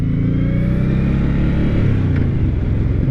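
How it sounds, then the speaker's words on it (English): Suzuki Boulevard M109R motorcycle pulling away from a stop, a loud, close, deep engine rumble that rises slightly in pitch as the bike rolls off. "taking off from a stop is easy because you don't really have to give it any throttle"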